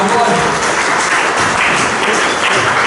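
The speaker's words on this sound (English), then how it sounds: "Join us with the loudest round of applause" An audience applauds loudly and continuously at the product launch of a smart calculator, a dense wash of clapping with some cheering mixed in.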